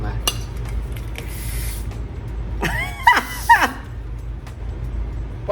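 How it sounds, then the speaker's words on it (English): A Big Sexy Hair hairspray can with a clogged nozzle gives short hissing spray bursts with sputtering, squirting sounds midway, against a low background hum and light clinks. "the big sexy hair nozzle must be clogged"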